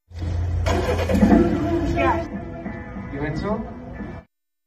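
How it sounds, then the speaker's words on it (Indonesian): A car engine cranks and catches after a jump-start with jumper cables, then runs with a steady low rumble while voices talk over it. "Beberapa saat kemudian, mobil Musa sudah bisa hidup kembali."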